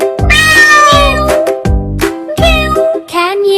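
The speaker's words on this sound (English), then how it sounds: "It's a cat." A cat meows several times in a row, loud and close, each call drawn out with a whining, tonal rise and fall.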